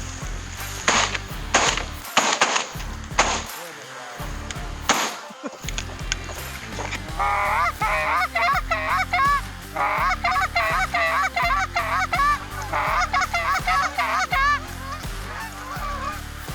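A large flock of geese honks insistently and repeatedly, nearby during a hunt, after several sharp knocks and thumps at the start.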